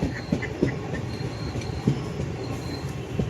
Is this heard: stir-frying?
no